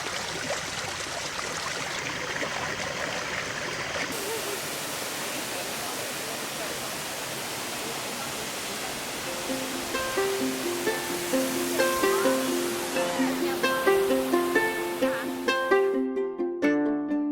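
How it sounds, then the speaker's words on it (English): Continuous broadband rush of falling water at Erskine Falls near Forrest, Victoria, Australia, steady and moderately loud, with bright tonal music rising over it in the second half. "Erskine Falls is not the highest waterfalls in Australia or even Victoria itself."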